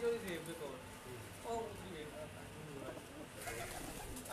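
Male pigeons on a rooftop give soft, low coos in short bursts, faint and close, while someone talks over them.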